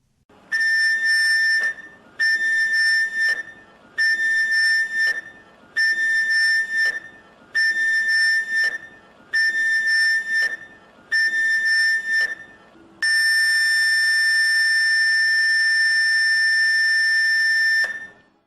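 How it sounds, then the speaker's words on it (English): A ship's whistle sounds the general alarm signal: seven short, loud, tonal blasts in an even rhythm, then one long sustained blast, with no voices. "the IMO standard general alarm signal is 7 short blasts, followed by 1 long blast on the ship's whistle"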